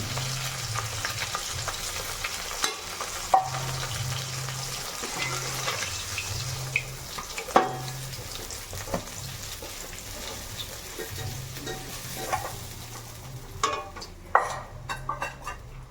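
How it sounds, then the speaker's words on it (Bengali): Fish frying in a pan gives a steady, close sizzle throughout, with occasional clinks and stirring sounds rising over the continuous crackle. "তো দেখতেই পাচ্ছেন আমার মাছ ভাজা হয়ে এসছে"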